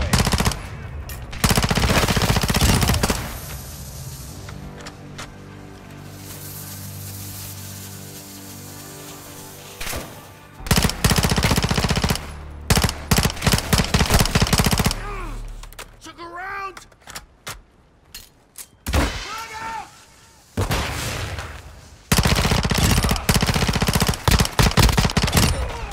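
Loud bursts of automatic gunfire in the video game Call of Duty Modern Warfare II, with sharp rapid volleys starting and stopping across the clip and quieter stretches in between, where people talk.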